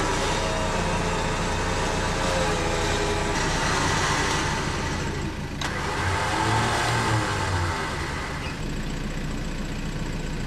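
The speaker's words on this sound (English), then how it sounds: "no matter how I try, I'm just spinning wheels and it's just falling down the same track" A 4WD engine revs hard as its wheels spin on a muddy bush track, a loud, steady roar that surges and dips for about ten seconds with no speech.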